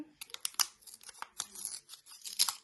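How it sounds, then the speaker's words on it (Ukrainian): Paper surprise packet being torn open, a close run of sharp crinkling rips and rustles in irregular bursts with short quiet gaps between them. "сьогодні файно відкрився пакетик взагалі дивіться"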